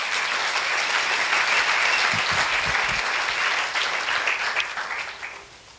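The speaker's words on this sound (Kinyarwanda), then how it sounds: "Amashi menshi ku mwami Yesu Kristo." Applause from a church congregation praising Jesus Christ, a steady dense wash of many hands clapping that holds loud for several seconds and then thins and fades out near the end.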